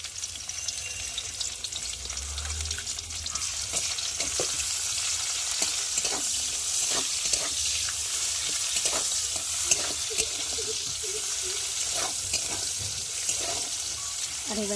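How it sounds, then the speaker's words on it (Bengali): Chopped onions fry steadily in oil, following black cumin seeds, with a loud continuous sizzle and bubbling hiss. Occasional scrapes of stirring come through for about fifteen seconds, with no clear talk. "এখন কেটে রাখা পেঁয়াজগুলোকে দিয়ে ভেজে নেব"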